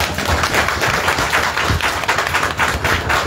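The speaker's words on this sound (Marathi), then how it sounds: "यासाठी एकदा जोरदार टाळ्या" Loud applause from a gathering at a school reunion of a tenth-grade class fills the space with continuous close clapping, with no voices heard.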